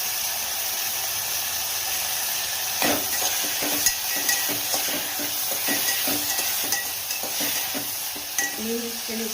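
Chopped tomato frying in hot oil in a pan with a little sambar masala, a steady broadband sizzle with scattered stirring clicks and scrapes of a spoon against the pan, close and continuous with no talk.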